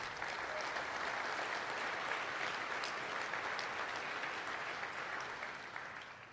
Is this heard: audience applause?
yes